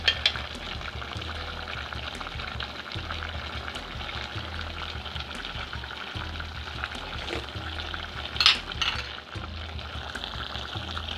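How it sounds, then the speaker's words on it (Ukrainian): Soft, steady bubbling and sizzling of beans with mushrooms stewing in a pan, with a faint clink partway through and a low background hum. "Квасолька наша тушиться уже 25 хвилин."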